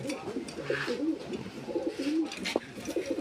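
Several fancy Red Lahori and Mundian pigeons coo nearby at a pigeon farm in overlapping low, throaty bursts, a continuous warbling chorus.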